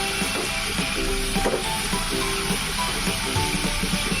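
A spice paste with two pureed medium tomatoes fries in a pan for fish curry, giving a loud, continuous sizzle with a crackling texture and occasional stirring scrapes, close up and without talk.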